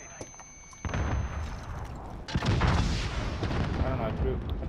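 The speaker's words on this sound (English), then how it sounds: "I threw a grenade in there." A grenade blows up in a first-person shooter game. A sharp click is followed by a booming blast and a rumbling burst of gunfire and explosions that grows loud and continues, with players talking over the game.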